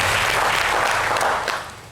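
Audience applause from a crowd, a dense wash of clapping that holds steady and then fades away over a couple of seconds.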